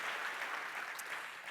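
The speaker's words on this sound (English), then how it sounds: "Let's give a round of applause celebrating 30 years." Audience applause celebrating 30 years of Operation Hope at a sports and social justice event, a steady, fairly quiet wash of clapping that holds evenly throughout with no talk over it.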